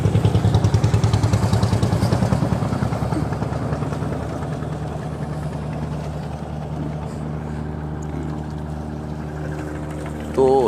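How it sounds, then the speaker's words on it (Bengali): Large launches and steamers run at the Sadarghat river launch terminal, a loud, close, rumbling engine drone with a steady throb that eases slightly over the span, and a brief horn-like tone near the end. "তো এখানে যখন বড় বড় লঞ্চ, স্টিমার চলাচল করে"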